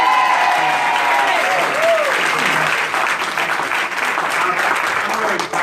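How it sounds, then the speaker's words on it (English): Steady audience applause at a nursing home strike vote press conference, continuous and fairly loud, with a few faint voices mixed in. "How about a big round of applause for Reverend Johnson?"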